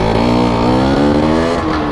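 Yamaha Force 1 two-stroke motorcycle pulling hard in second gear, a loud, close buzzing engine note with strong rising harmonics, alone without speech.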